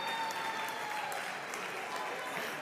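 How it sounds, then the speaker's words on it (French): Audience applause at a talent show semifinal, a dense, steady wash of many hands clapping throughout with a faint crowd murmur and no clear talk. "Est-ce qu'on peut applaudir pour aider l'ambassadrice Rosny à se rasseoir, s'il vous plaît?"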